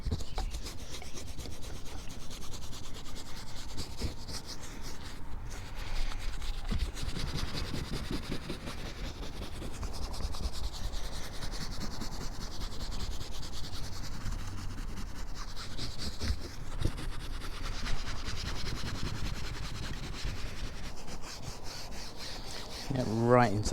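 Continuous brush scrubbing of cleaner into the fabric of a mohair convertible roof, a close, steady rubbing rasp in back-and-forth strokes with a squeaky scrape near the end.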